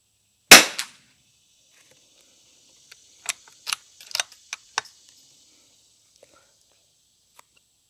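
Sharp gunshots at a shooting contest: one loud close crack, then a quick uneven cluster of several fainter pops a few seconds later, with near silence between and one last faint pop.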